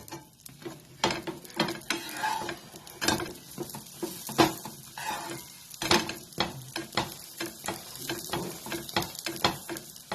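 A moong dal pizza base fries in a little oil on an old tawa over a low flame, with a soft, steady sizzle broken by scraping and tapping from the spatula as it is turned. No one speaks.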